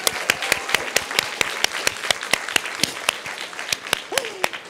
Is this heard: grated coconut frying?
no